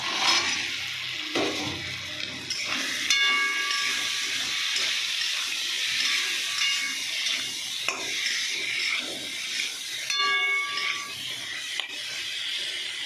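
Paneer hits a hot spiced pan and sizzles, a continuous frying hiss with stirring scrapes and brief utensil clinks throughout.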